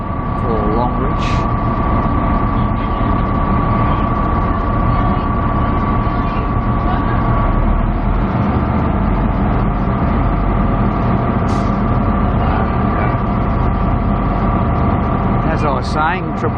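Triple-headed Spirit of the Outback passenger train with an 11-car consist departing for Longreach, a loud continuous engine rumble and drone with a steady tonal hum, heavy and close throughout, with a voice talking over it.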